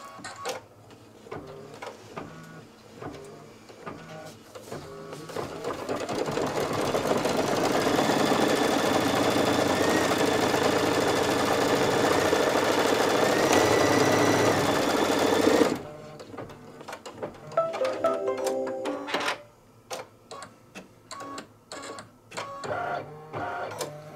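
A home embroidery machine stitches the placement outline for the top of a dachshund's head on a tote bag, a steady fast mechanical whirring that runs loud and continuous for several seconds before stopping, followed by lighter clicks and handling noises.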